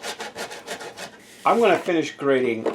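Bar of soap rubbed against a grater for homemade laundry soap, a run of rapid rasping scrapes, close and crisp, with someone speaking briefly near the end.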